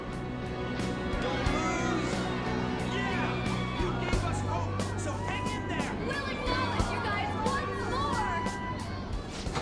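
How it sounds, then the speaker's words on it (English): A large crowd of people cheers in a dense, steady roar of many overlapping voices, loud and continuous, with a voice speaking over it. "You hear that? Those are the voices of the humans you made fun of!"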